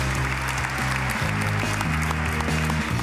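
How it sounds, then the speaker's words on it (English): Thunderous applause fills a Labor Party conference hall, a dense, steady wash of clapping from a large crowd that continues without a break throughout. "Brawling and insults replaced with thunderous applause and a rallying message."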